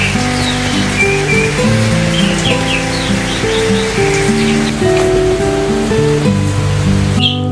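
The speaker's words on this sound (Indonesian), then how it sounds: "saking derasnya air dari pagi dan hujannya itu lumayan lama" Heavy rain pours in a steady, dense hiss throughout, partly under background music with a few birds chirping.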